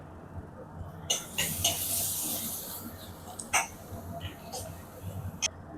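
Curry leaves and fennel powder hitting hot oil in a pan and being stirred, giving a soft hissing sizzle with a few sharper spits and scrapes, under someone speaking.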